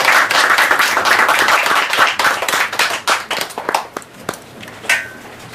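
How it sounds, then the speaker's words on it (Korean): Applause from a small audience after a two-hour academic lecture and discussion, brisk close clapping that thins out into a few scattered claps. "2시간 동안 열띤 강의해주신 우리 민경석 선생님하고 토론자분들께 박수 부탁드립니다"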